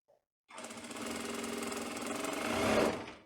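An electric sewing machine stitches a seam toward the hem of a tailored skirt, running in one steady, close whirring burst of about three seconds after a moment of quiet.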